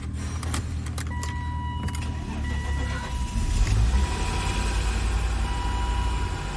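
A 1998 BMW 328is 5-speed that has sat parked for years comes to life: keys jingle and small mechanical clicks come first, then the engine catches partway through and settles into a steady, slightly raised idle.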